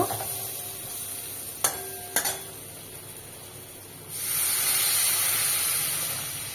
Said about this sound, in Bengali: আলুর সাথে মশলা কষানো হয়ে গেছে, এবার এতে আমি জল দিয়ে দেব